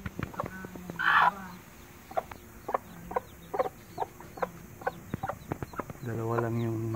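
A hen clucks near newly hatched chicks, whose thin peeping calls rise among short taps and rustles. A voice talks briefly near the start, and a louder drawn-out cluck closes the stretch.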